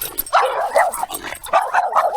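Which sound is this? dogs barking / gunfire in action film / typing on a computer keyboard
dogs barking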